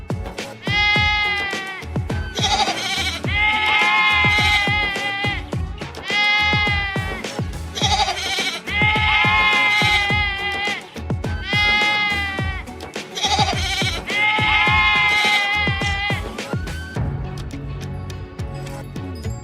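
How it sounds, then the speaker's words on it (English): Sheep bleat loudly and repeatedly, a series of close, wavering calls in quick succession with short pauses between them. "Sheep."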